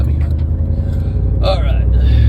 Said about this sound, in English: Right after this little Jap car gets by me.